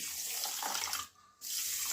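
Water poured from a tap onto sugar in a pan to make sugar syrup for a fasting dish, a steady splashing stream that cuts out briefly midway, then resumes.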